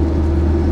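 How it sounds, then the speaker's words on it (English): A Reliant Supervan 3's all-aluminium four-cylinder engine drones steadily while driving, a brief, loud, low hum with no voices over it. "the Reliant all aluminium engine revs hard and it does get this thing moving"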